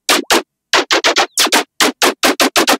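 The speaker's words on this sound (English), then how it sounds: "Then let's go for the main bass" A main bass synth for a drop, pitched down and ring-modulated, plays about fifteen short, loud, gritty bursts. They come in a quick rhythmic pattern with tiny gaps between them and a pause near the start, with no voices.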